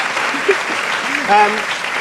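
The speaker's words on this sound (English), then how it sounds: "A round of applause for that." A theatre audience at a post-show Q&A gives a loud, dense round of applause, a steady wash of many hands clapping close by, with voices heard faintly through it.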